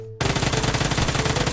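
Rapid automatic gunfire in PUBG Mobile, a loud, steady burst of evenly spaced shots that kicks in suddenly after a brief quiet moment and keeps hammering without pause.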